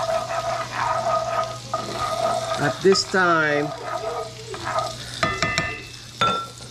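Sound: salted butter with tarragon sizzling in a pan

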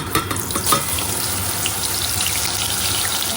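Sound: papadum frying in oil

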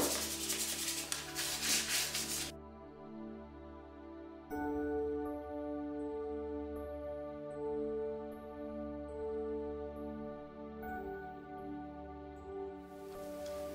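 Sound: wet sanding surface with fine sandpaper

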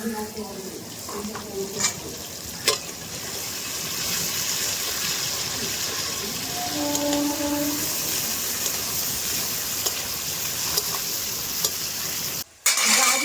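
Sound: carrots frying in a wok for fried rice

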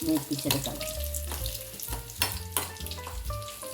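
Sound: shallots and mustard seeds frying

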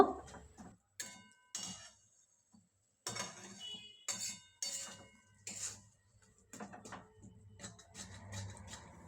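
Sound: metal spatula pressing coconut jaggery mixture in pan

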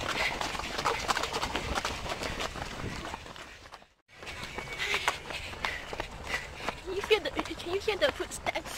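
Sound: runners' footsteps during a half marathon

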